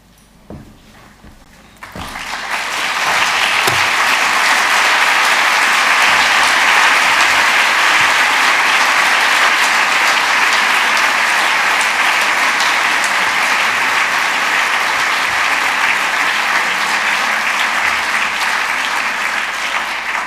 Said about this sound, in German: Der Applaus spricht für sich.